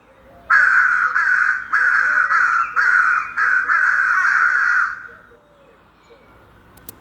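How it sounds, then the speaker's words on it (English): A crow screeching nearby in a scary movie scene: a loud, close run of about eight harsh caws in a steady rhythm, then quiet outdoor ambience. "A crow screeches nearby."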